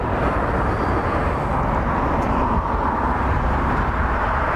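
A Harley-Davidson Softail Custom FXSTC motorcycle engine rumbles steadily through its mufflers, a dense, continuous low drone held at an even level throughout without talk.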